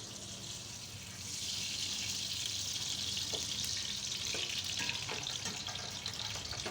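A cup of oil heats in a cooking pot over a lit stove flame, giving a steady broad hiss that grows louder after about a second and carries on with faint crackles, with no talking.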